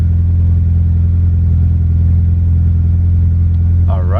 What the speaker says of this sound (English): All right, cold start.